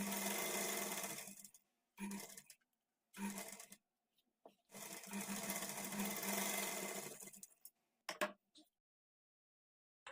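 A sewing machine runs a double line of stitching over attached blouse sleeves, sounding as several close bursts of fast whirring separated by short pauses.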